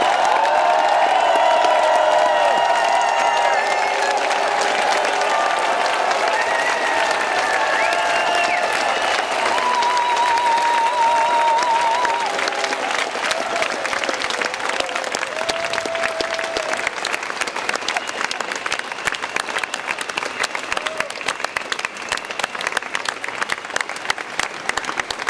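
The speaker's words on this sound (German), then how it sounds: "lasst uns doch mal einen richtigen, kräftigen Applaus dem Gott Abraham, Isaak und Jakobs geben." Sustained applause from a crowd at an outdoor pro-Israel demonstration in Stuttgart, steady loud clapping with occasional cheers and whistles that continues throughout before slowly thinning toward the end.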